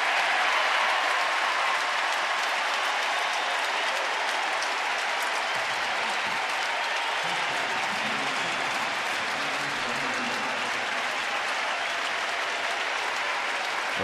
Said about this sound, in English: The crowd standing, roaring.